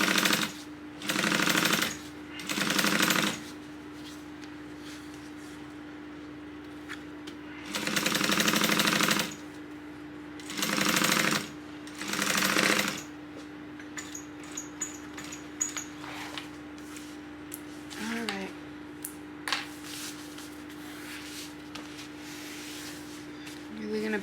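A sewing machine stitching a tote bag seam, running in several short bursts of steady whirring separated by pauses, close by, with a constant low hum underneath and occasional light handling noises.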